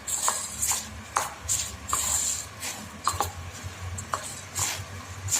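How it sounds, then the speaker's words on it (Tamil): Puffed rice being stirred with gram flour batter in a bowl, giving a series of light scraping, rustling strokes with a few faint clinks of spoon against the bowl, close and moderately quiet, with no talking. "எல்லா பொரியும் நல்லா மிக்ஸ் ஆகுற மாதிரி மிக்ஸ் பண்ணி எடுத்துக்கோங்க"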